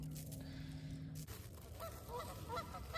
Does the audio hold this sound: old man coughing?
no